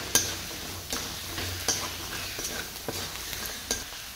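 Spices for chivda (chivda masala, turmeric, kasuri methi and black chili powder) are tossed and stirred in a frying pan: a soft, steady sizzle under a regular series of sharp spoon taps and scrapes, close and without speech.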